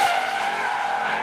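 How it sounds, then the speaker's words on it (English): Tyres skid and squeal steadily as a Jaguar F-Type R drifts around a skid pan at a car show, a loud continuous screech sustained for the whole moment with no voices. "There's some tyre smoke and skids. Jaguar have their F-Type R's giving out drift experiencing round the skid pan."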